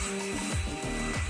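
Steady whirring hum of a running electric hair dryer, close and continuous with slight pulsing fluctuations, no voices.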